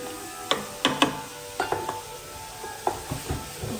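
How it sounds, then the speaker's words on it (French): A utensil stirs onions frying in butter and olive oil in a pan, giving a series of close scraping knocks over a soft sizzle, with no talking. "je mélange une dernière fois"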